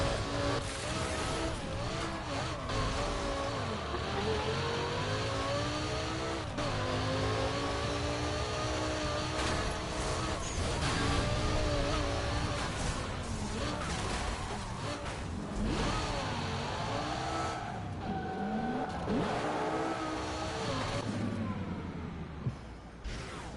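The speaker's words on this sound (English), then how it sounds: "Ironically, it even sounds like the R8. Maybe not, maybe a little more like the LFA." A sports car engine in the racing game Burnout Paradise revs and accelerates at high pitch, its tone rising and falling through gear changes, steady and continuous at moderate loudness.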